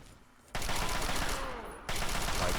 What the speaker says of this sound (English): So much more effective to shoot them in the head.